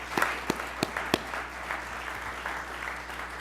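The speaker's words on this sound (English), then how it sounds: "Let's give him a round of applause." Audience applause following a presentation and panel discussion, a steady wash of many hands with a few sharper nearby claps standing out at the start, holding at moderate level throughout.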